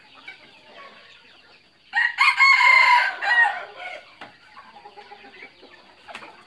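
A jungle fowl crossbreed rooster crows once, loud and close, in a short burst, with quieter clucks and rustling before and after.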